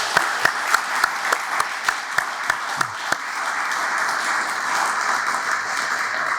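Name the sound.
audience applause for scholarship students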